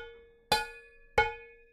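A big cooking pot is struck as a drum with the hands, giving two loud, ringing hits about two-thirds of a second apart, each with a sharp attack and a metallic tone that fades slowly.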